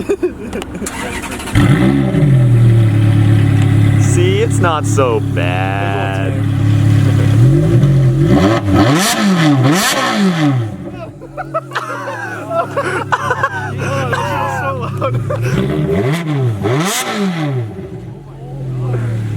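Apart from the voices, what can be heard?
Ferrari with Fab Speed headers revving loudly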